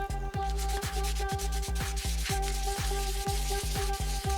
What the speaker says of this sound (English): this foam backed sandpaper is actually quite good for this